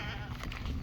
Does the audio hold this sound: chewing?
no